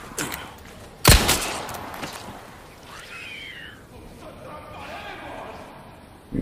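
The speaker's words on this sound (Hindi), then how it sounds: "गोली चला दी मैंने" Gunfire in the video game Resident Evil 4 Remake: one loud, sharp shot rings out near the start, followed by quieter game ambience and a faint second burst at the end, with someone talking over it.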